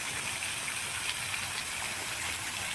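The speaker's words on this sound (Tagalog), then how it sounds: "Umuulan kasi, kaya nakapayong ako" Steady rain falls at a mountain hot spring resort, a dense, even hiss of drops pattering on surfaces with no breaks and no voices over it.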